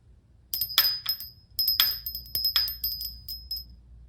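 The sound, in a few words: small bell ringing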